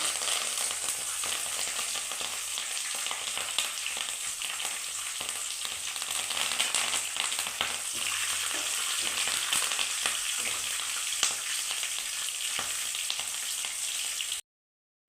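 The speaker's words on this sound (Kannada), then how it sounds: "ಇದನ್ನು ಚೆನ್ನಾಗಿ ಫ್ರೈ ಮಾಡ್ಕೊಳ್ಳೋಣ" Chillies and curry leaves hiss and crackle in hot oil for lemon chitranna, a steady close sizzle that runs without a break for about fourteen seconds and then stops abruptly.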